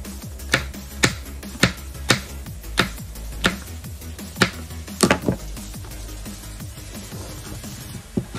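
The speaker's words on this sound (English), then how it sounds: "You can cut them with a smaller knife." Knife chopping mushrooms on a cutting board while making fettuccine, a series of about a dozen crisp, close taps spaced irregularly around half a second apart, clear over a quiet background.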